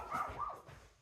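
A dog shut outside a closed door gives a couple of short, muffled barks and whines in quick succession, faint and slightly distant.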